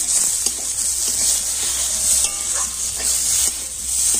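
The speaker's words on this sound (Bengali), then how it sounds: "টমেটো সস দিয়ে আবার কিন্তু ভালোভাবে নাড়াচাড়া করে নিচ্ছি" Tomato sauce being stirred in a hot frying pan gives a steady bright sizzle, with soft intermittent scrapes of the spoon against the pan, close and continuous without talk.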